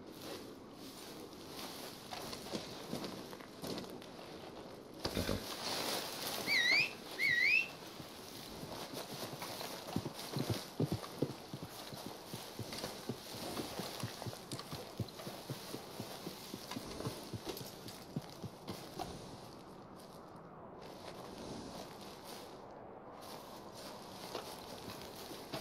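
Horse hooves clip-clop in the Red Dead Online video game, a steady walking patter of hoofbeats running under ambient game sound, with a couple of sharper, louder knocks early on.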